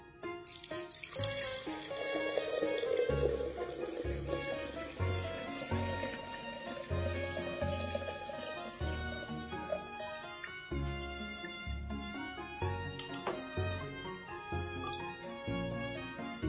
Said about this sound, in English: we are just going to strain out all of that alcohol